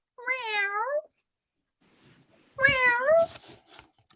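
Two drawn-out, wavering meows from a human voice imitating a cat, separated by a short pause.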